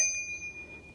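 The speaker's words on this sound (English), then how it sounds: "Just in front of that, we do have our bell," A single bright ding from the handlebar bicycle bell on a Lectric XP 4 e-bike, struck once and left to ring out as a clean, sustained metallic tone that slowly fades.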